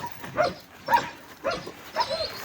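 Sheep-flock guard dogs bark in four short bursts about half a second apart, moderately close, with some yelps mixed in over a quiet outdoor background.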